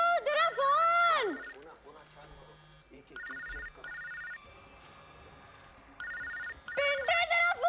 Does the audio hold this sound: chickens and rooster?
no